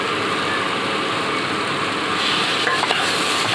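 Ginger garlic paste added to a frying pan for a chicken dish, producing a steady close sizzle with soft stirring scrapes near the end.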